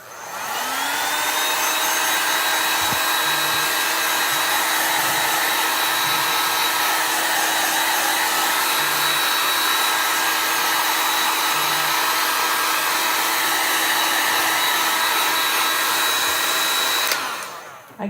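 A hair dryer blows steadily to dry chalk paste on a Christmas tier tray, a loud, continuous whirring hum that starts abruptly, holds for about seventeen seconds and then cuts off.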